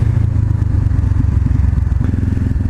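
A Honda CBR500R motorcycle engine drones loud and close with a throbbing low rumble and wind noise during a clutchless downshift while riding.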